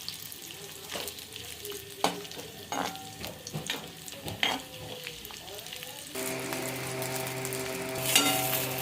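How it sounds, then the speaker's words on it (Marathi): Bombil fish fry in hot oil, sizzling and crackling steadily, with occasional sharp pops and clinks, and the frying grows louder and denser toward the end. "आता मी हे बोंबील तळून घेणार"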